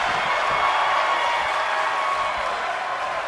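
Arena crowd noise from the WWE 2K25 wrestling video game, a loud, steady roar of cheering and whooping that holds for the whole stretch without a break.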